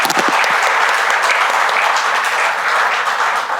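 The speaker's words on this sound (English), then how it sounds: "Can we have a big round of applause once again?" An audience at a community event gives a big, steady round of applause, dense overlapping clapping that stays loud and even throughout with no voices over it.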